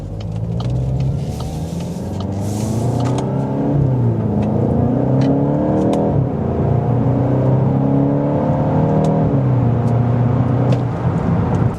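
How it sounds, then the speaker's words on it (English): A Mk8 Volkswagen GTI accelerates hard along a back road, its engine note rising steadily through the gears with brief dips at the shifts, loud and close from inside the cabin with no talk. "we're going to do one more acceleration here"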